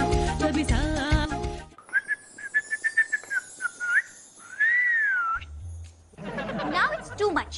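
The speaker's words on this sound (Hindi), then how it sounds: "सीटी बजाना कोई शरीफ लड़कों वाला काम नहीं होता।" A boy whistles a wavering, bending tune in a Hindi TV drama scene, clear and fairly close. Music plays just before it, and voices follow.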